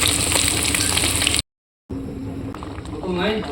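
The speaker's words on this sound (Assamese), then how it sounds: "মাছ ভাজি আছোঁ" Fish frying in a pan gives a loud, steady crackling sizzle, cut by a short silent gap, then continuing with faint clatter and a voice talking over it near the end.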